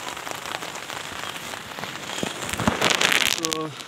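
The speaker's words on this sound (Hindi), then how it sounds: "बाहर एकदम बहुत ख़तरनाक बारिश लगी हुई है" Heavy rain drums steadily on a tent, a dense crackling patter that swells louder toward the end, with a few faint tonal sounds at the close, at a campsite in India.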